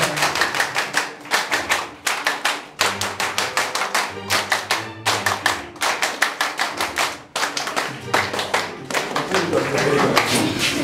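Audience applause at an event in Abidjan welcoming the president of TIENS Afrique: sustained clapping from a crowd in repeated surging waves over nearly eleven seconds, loud and close, with voices mixed in.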